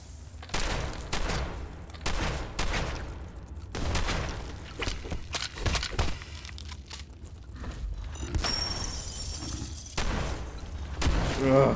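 Gunfire from Fallout 4 on PC or Xbox during a combat quest. It comes as repeated loud bursts and volleys that cluster and stop, with game clutter between them and a bright sustained tone near the end.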